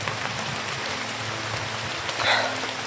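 Steady rain falling outdoors, a dense even hiss of drops on surfaces lasting throughout, with a brief brighter patter near the end; no talking.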